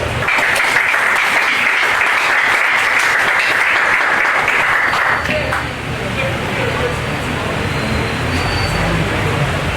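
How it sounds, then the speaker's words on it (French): An audience at a speech during an association ceremony in Haiti breaks into loud, sustained applause that fills the first half, then fades into a lower crowd murmur. "Applaudissez moi"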